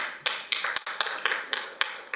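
Scattered applause from an audience at a city council meeting, a thin patter of light claps and taps repeating at a steady pace, fairly quiet and close, with no voices over it.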